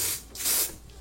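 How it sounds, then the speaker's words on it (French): Ebin New York Wonder Lace Bond spray on a wig lace, heard as two close hissing bursts from the can, the second longer and louder, with no talking. "C'est le Ebin New York, le Wonder Lace Bond. Et je vais juste venir spray ça"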